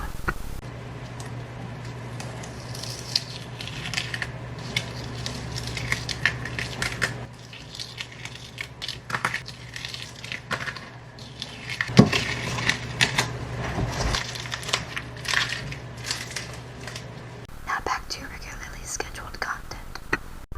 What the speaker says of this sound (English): Now it is time for some tape peeling ASMR.